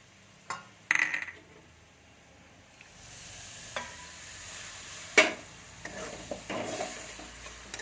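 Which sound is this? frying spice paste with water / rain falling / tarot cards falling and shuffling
frying spice paste with water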